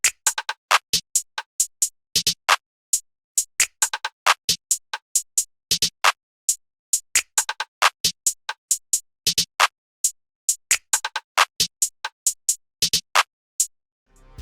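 A rim sample clicks through a glo-style FL Studio trap beat in a dense, steady pattern of sharp, dry percussive ticks alongside the other drums, with a short bass swell at the very end.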